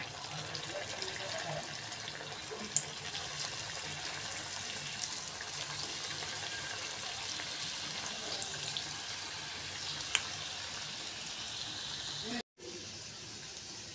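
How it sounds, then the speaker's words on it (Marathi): Momos deep-frying in hot oil, giving a steady, dense sizzle and crackle with a few sharp pops that runs unbroken before cutting out abruptly near the end. "त्याच्यामध्ये आता हे मोमोज सोडून घेऊया, तळून घेऊया."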